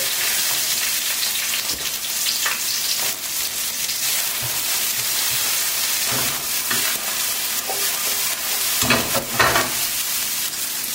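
Garlic and red pepper fry in a pan with a continuous hissing sizzle, punctuated by occasional scrapes and clatters as the pieces are turned, with no voices.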